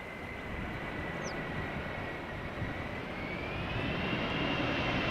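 A KLM Boeing 747 lands at Schiphol, its engines a broad, steady distant roar with a faint whining tone, swelling gently toward the end with no voices.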